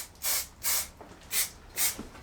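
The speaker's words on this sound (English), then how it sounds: "this tin sprays really, really good. It's got a strong, even, so you can see the pressure coming out." A spray tin of rust treatment hisses in four short, strong bursts, each about a third of a second, evenly spaced and close up with quiet gaps between.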